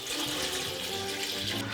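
Cold water pours steadily from a tap into a saucepan of ingredients, a bright continuous splashing that lasts a couple of seconds.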